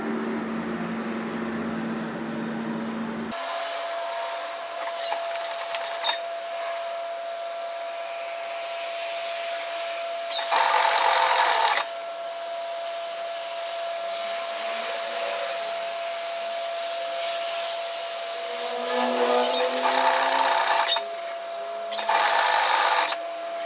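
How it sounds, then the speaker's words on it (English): A sewing machine stitches a hooded reversible infinity scarf at a 6mm seam allowance, running in steady bursts of varying length with a constant motor hum underneath and short pauses between runs. "you might like to turn it and sew it so that you have the insert part on top"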